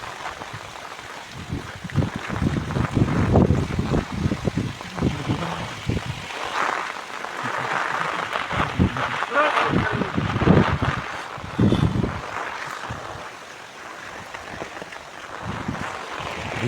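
Strong wind in a Kalbaishakhi rainstorm over rural farmland in Bangladesh roars steadily and buffets close to the microphone in uneven gusts, with no talking.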